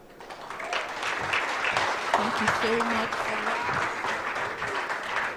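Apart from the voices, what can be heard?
audience applause at a conference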